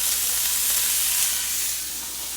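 Cabbage sizzles and crackles in a hot pan with a steady bright hiss, close up and fairly quiet, with no voices.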